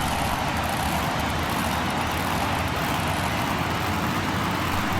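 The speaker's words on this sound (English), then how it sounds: "it looks like they're revving right now" Monster trucks staged at the start line of a retro monster truck racing event rev their engines, a loud, dense, continuous roar with no break.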